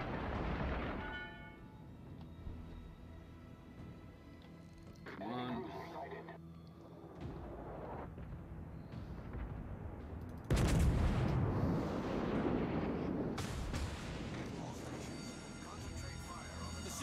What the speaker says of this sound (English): Missed him with my salvo.